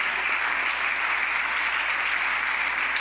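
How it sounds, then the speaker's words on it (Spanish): A church congregation breaks into strong applause during a Spanish-language service, a continuous, even roar of many hands clapping that stays loud and unbroken throughout. "Dale un fuerte aplauso al Señor"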